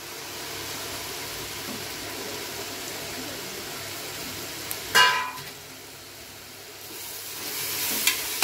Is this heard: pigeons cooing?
no